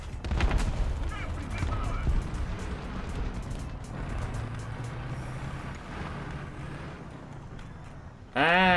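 Tank battle gunfire in War Thunder around a 2S1 122 mm self-propelled gun, a cluster of sharp shots early followed by scattered distant reports over engine rumble, with a voice talking at points.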